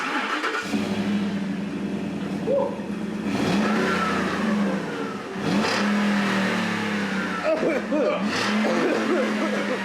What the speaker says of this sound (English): First step is to test the old exhaust and see how it sounds.